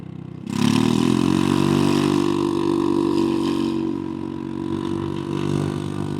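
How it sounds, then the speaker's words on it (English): Loud exhaust on a scooter roars to life and revs up, holding a steady, throaty drone close by before easing slightly toward the end. "at least now Donnie has an exhaust that scares people"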